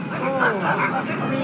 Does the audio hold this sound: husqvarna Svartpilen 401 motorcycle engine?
no